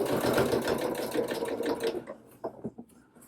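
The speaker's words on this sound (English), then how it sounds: "sewing that seam allowance down flat on the lining edge" Sewing machine stitching a seam allowance flat along the lining edge of a doll dress, a close, fast mechanical whirr that stops after about two seconds, followed by a few soft clicks and fabric handling.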